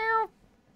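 A single short meow imitating a cat, most likely made by a human voice, loud and close, followed by quiet.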